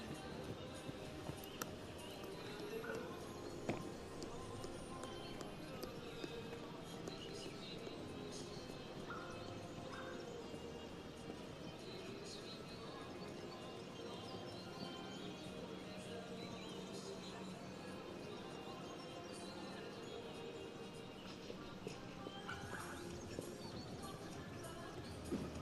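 A horse's hooves beat softly and rhythmically during a dressage test at the FEI Eventing Nations Cup in Strzegom, faint and distant beneath an ongoing commentator's voice.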